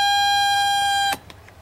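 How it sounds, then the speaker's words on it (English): A steady, loud electronic buzzer tone from a Mercedes W123 warning buzzer, triggered by a modified headlight switch, sounds continuously for about a second, then cuts off abruptly, leaving faint background noise. "now it still works, but it gives you the warning buzzer"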